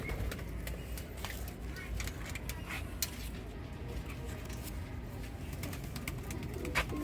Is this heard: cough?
no